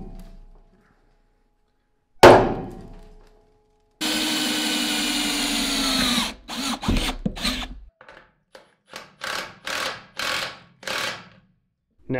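A sharp knock, then a power drill runs steadily into metal for about two seconds before a series of short drilling bursts, close by.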